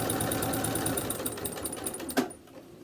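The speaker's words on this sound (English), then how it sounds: "and then just sew all the way around." A sewing machine stitching fabric ear savers, its rapid even needle chatter running steadily up close before stopping with a final clunk.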